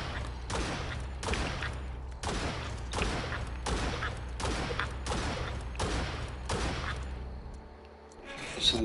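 Gunfire from an invisible gun in the video game Rat game rings out as a rapid series of about nine loud, sharp shots at a steady pace, close and punchy, before trailing off into quieter background noise.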